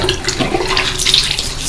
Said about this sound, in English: I'll rinse this out really quick with warm water